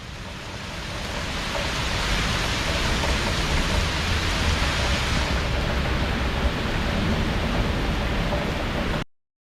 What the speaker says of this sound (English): Very heavy rainfall.